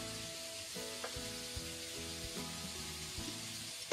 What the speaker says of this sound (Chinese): 然后快速的翻炒均匀，炒至黄瓜和木耳完全的入味儿